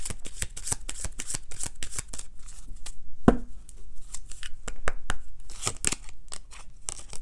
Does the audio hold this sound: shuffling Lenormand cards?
yes